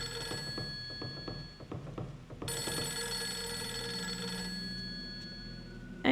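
A telephone ringing in the video game Fatal Frame III, its repeated trilling bell bursts sounding at moderate volume, then giving way to a steady tonal hum and a sudden louder sound at the very end.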